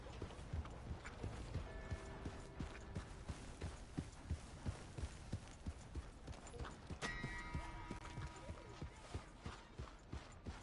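Steady horse hooves clip-clop in an even rhythm throughout in Red Dead Redemption 2, with faint mechanical ticking and ringing tones in the background.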